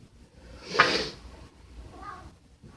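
A house cat gives a single short meow, fairly close and moderately loud, with quiet room ambience around it and a fainter second call shortly after.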